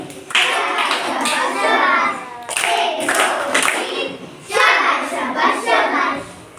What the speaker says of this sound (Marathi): टाळ्या वाजवून या.